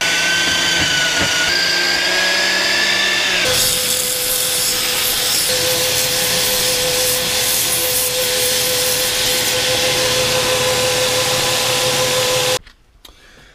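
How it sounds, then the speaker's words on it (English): A power sander works steadily across a custom wooden shop sign, a continuous close whirring grind with a steady hum that runs almost the whole time before cutting off abruptly near the end. "got that all sanded up there"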